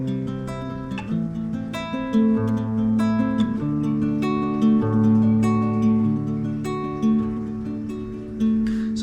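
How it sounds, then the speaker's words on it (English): Acoustic guitar fingerpicking pattern over a three-chord progression, clear and close, with steady plucked notes ringing over sustained bass tones for about nine seconds, no talking. "That is the finger picking pattern."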